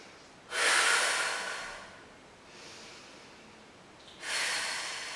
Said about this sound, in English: We're holding here and breathing.